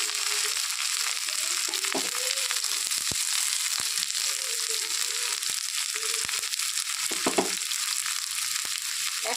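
Chopped onion and whole garlic cloves frying in a pan, a dense continuous crackling sizzle with a few sharper pops and scrapes of stirring.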